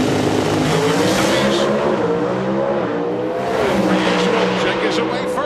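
NHRA drag racing cars at the 2000 AutoZone Nationals roar loudly and continuously as they launch down the strip, a dense unbroken engine blare filling the whole stretch.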